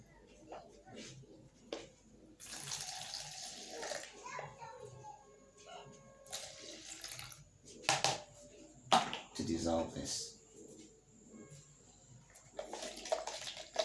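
Water pours and splashes into a liquid soap mixture being made into rig wash, with intermittent sloshing and stirring that swell and fade across the stretch, close by and fairly quiet.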